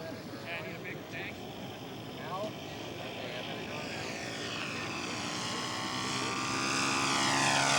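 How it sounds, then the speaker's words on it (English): A radio-controlled scale model P-40 fighter comes in to land at an aircraft show, its propeller engine droning steadily and growing louder toward the end, while a voice talks over it through the flyby. "Bob Fry coming in with his P-40. Excellent, excellent. Excellent landing"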